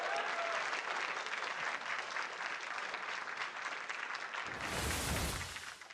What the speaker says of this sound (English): let's give another round of applause for Jasonzhou.